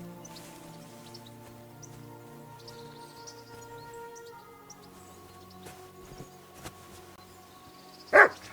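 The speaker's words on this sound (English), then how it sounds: "Barking." A dog barks in the video game Kingdom Come: Deliverance 2, one short sharp burst near the end over a quiet game ambience with faint bird calls.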